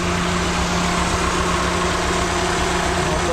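A Kia Pride project car with a weak battery idles steadily and close by, a continuous low engine hum with a faint background drone and no break in the sound.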